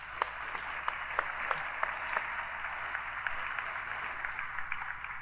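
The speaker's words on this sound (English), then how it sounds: "our graduating class might express their deep appreciation for the contributions that our faculty and staff have made to their education, with a nice round of applause" Applause from a graduating class at a spring commencement ceremony for doctoral, specialist and master's students, a steady, fairly distant wash of clapping with a few sharper individual claps standing out.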